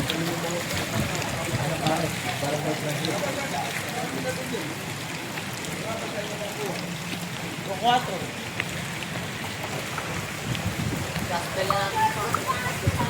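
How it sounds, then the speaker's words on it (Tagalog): Heavy rain falls during street flooding in Calumpit, a continuous hissing wash of drops on water and surfaces, with people talking over it throughout. "Nabutan tayo ng ulan."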